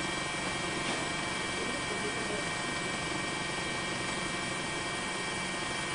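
Helicopter carrying a news camera crew over Sendai after the 2011 earthquake and tsunami, a steady dense rotor and engine roar that holds evenly throughout with no break.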